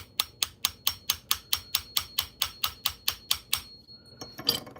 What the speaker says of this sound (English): Miniature hammer.